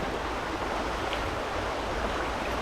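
River water rushing steadily along a jungle stream in Vang Vieng, Laos, a continuous broadband wash with no breaks, fairly close and even in level throughout, with no voices.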